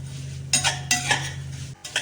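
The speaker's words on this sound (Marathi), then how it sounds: "आता आपण शेवई टाकून घेऊ शेवई थोडी मंद आचेवर थोडीशी लालसर होऊ द्यायची" A utensil stirs and scrapes vermicelli roasting in a pan over low heat, several short scraping strokes close up.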